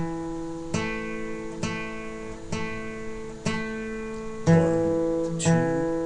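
Guitar picking out a tablature line from a lesson sheet, single ringing notes plucked one at a time in an even, unhurried rhythm, close and clear with each note sustaining into the next, no talking.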